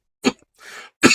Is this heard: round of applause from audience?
no